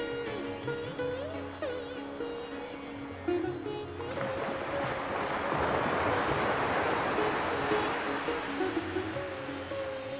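Sea waves at the empty Shankarpur beach roll in as a low wash that swells into a louder, rushing surge halfway through, with a voice heard faintly at the start and end.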